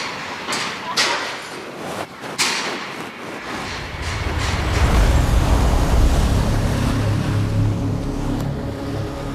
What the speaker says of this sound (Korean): 바람 소리, 파도 소리.